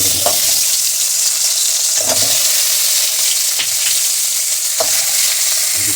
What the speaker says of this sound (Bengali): মাছ বেশি ভাজে না পিট করে হালকা ভেজে নিলে হবে